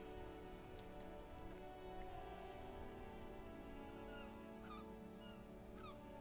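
Steady rain pours down in the video game Disco Elysium, a dense continuous hiss of drops on surfaces with no talk over it, while faint honking calls, like geese, drift in from the distance near the end.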